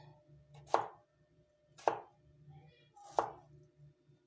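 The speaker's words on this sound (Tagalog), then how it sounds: "hiwain ko ng cubes lang guys, pa-cubes" Three sharp knife chops through potatoes being cut into cubes, evenly spaced about a second apart on a cutting board, close and fairly quiet, with faint low background murmur between strikes.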